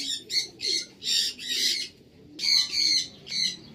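Loft pigeons squawking close by, a run of about eight harsh rhythmic calls in quick succession with a short pause after the fifth.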